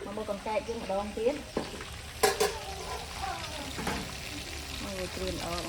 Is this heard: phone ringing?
no